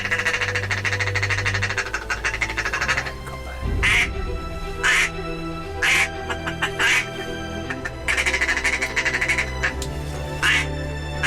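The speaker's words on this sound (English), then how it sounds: "There's ducks in the sky" Ducks quack overhead at a waterfowl hunt, giving several short, separate bursts of quacking at moderate distance, spaced a second or two apart, with a low background rumble.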